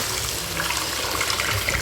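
Water poured into a pot of tomato and tamarind rasam with homemade rasam masala, a steady close rushing splash that runs on without a break and with no talk.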